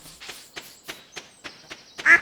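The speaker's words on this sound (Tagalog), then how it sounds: "Si Brownie at si Whitey. Yung dalawang manok" A string of short nasal quacking calls from video game chickens, about eight in a steady rhythm, clear and close, ending on a slightly louder squawk.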